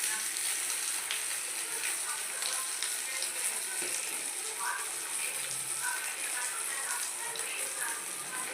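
Small test pieces of onion dropped into hot oil, a steady close crackling sizzle and bubbling that runs evenly throughout with scattered pops.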